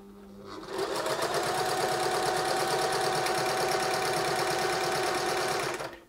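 A Singer 631G industrial sewing machine runs off the end of a seam, chainstitching in a fast, even, loud mechanical whir. It starts after a brief quiet hum and then stops abruptly near the end.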